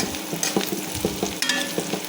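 Prawns frying with kalmi greens in a pan, close crackling sizzle broken by quick spatula scrapes and knocks, no talking.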